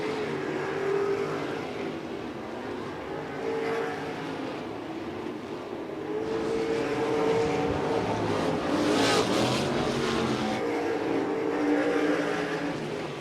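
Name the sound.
sprint cars racing around a dirt speedway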